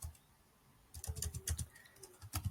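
Computer keyboard keys tapped in a quick irregular burst of clicks, close and moderately loud, starting after a quiet second while entering a formula in Excel.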